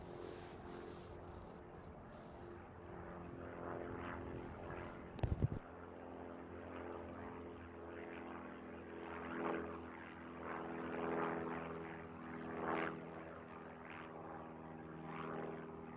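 A propeller aircraft inbound from Napier to Christchurch drones steadily at a distance, its engine hum swelling and fading in gentle waves over a constant low background, with a short burst of handling noise near the start.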